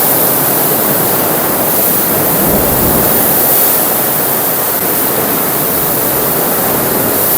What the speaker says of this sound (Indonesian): Perhatikan ini ombak ketiga.